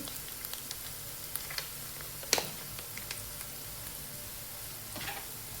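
Ginger garlic paste fries in a pan for pudina rice, giving a close, steady sizzle scattered with small pops and crackles and a brief scrape of stirring.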